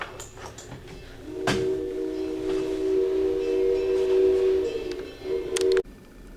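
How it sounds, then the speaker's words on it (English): A train rumbles past with a long, steady horn blast held for several seconds over the clatter of the cars, then it cuts off. "There goes that train again."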